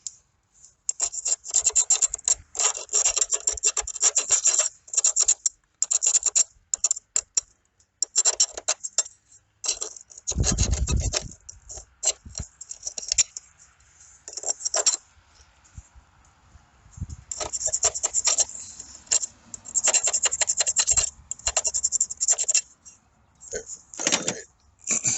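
Scraping burrs off a battery terminal connection produces bursts of harsh, gritty rasping and scratching, loud and close, in irregular stretches separated by brief pauses.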